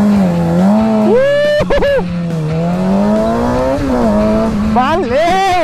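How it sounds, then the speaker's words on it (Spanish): A Suzuki GSX-R 750 motorcycle accelerating hard with launch control, its engine wailing loudly as the pitch climbs through the gears with sharp drops at each shift, close up, with a voice shouting over it. "¡Launch Control! ¡Cómo suena esta moto!"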